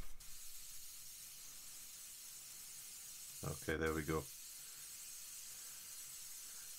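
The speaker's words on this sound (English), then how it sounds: "Let's give it a spray again." A steady Gaahleri airbrush hiss sprays paint the whole way, with a short spoken remark in the middle over the continuous spray.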